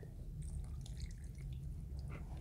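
Water poured into a homemade play dough mixture of flour, salt and vegetable oil, heard as faint dripping and splashing trickles over a low background hum.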